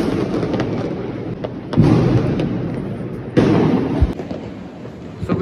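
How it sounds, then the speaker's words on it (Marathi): Diwali firecrackers bursting outdoors around a residential balcony during Lakshmi Puja night, a constant distant crackle broken by several louder booms and pops, with no talk. "सगळीकडे फटाके बाय"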